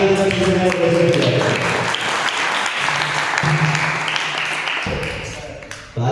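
Applause from a crowd at a religious discourse, a dense, loud wash of clapping that carries over sustained background tones before fading near the end.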